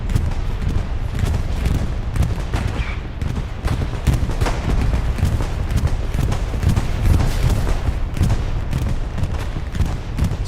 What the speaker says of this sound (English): Syndicate bombing run, I'm pretty sure.